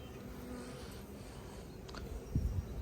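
Honey bees hum at an opened hive during a spring colony inspection, a continuous low buzzing drone at moderate distance with no talking.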